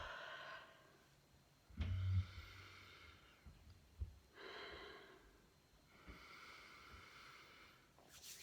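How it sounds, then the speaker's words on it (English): Deep breaths drawn in through the nose, taking in the scent of frankincense essential oil during an emotional cleansing ritual; several slow, quiet inhales spaced apart, with a soft sniff-like burst near the start, close and faint. "then inhale"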